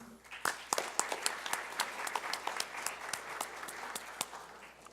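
An audience at a public hearing on housing rights in São Paulo claps for a speaker: a dense burst of applause that starts quickly, stays steady for several seconds, then thins out, fairly quiet, as if heard from across a hall.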